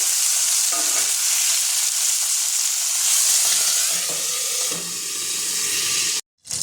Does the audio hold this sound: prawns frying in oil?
yes